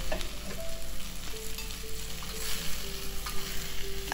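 Capcay vegetables stir-fried over a high flame hiss in a steady, fairly loud sizzle, with occasional utensil clinks and a faint tonal hum running beneath, close and without any voices.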